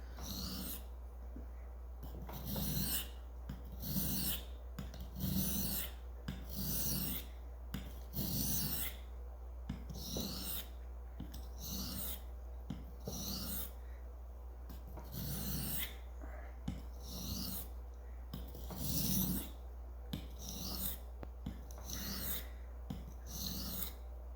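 A knife blade is stroked back and forth across a flat, oiled sharpening stone, producing a steady rhythmic rasping of repeated swishes, close and fairly quiet over a low background hum.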